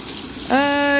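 Water bursting from a broken pipe above a roof, a sudden loud hissing gush that erupts midway after a stretch of low background noise and then holds steady and strong.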